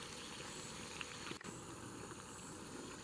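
Steady sizzling and crackling of sausage frying in a hot pan, close and continuous, with a faint hum underneath.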